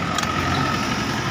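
A Tata Altroz engine, just started after a no-start fault caused by a leaking water hose pipe, runs at a steady, even idle close by, with a brief higher tick early on and no talk.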